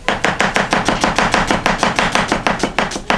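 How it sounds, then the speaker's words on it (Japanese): Knife slicing through an onion on a cutting board in a quick, even rhythm, about fifteen crisp chops close up with no talking. "玉ねぎをスライスしていきます。"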